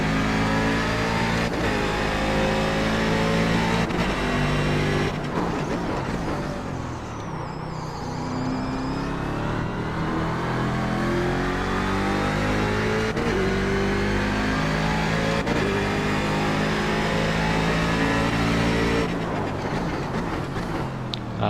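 A Daytona Prototype race car at a Montreal race roars loudly and close through a continuous run, its engine note climbing and dropping as it accelerates, lifts and shifts, with no voices over it.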